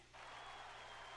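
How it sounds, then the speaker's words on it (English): In The Great Ace Attorney video game, a courtroom crowd bursts into sustained applause and cheering that starts abruptly and holds at a steady, fairly faint level. "look at everybody that's cheering"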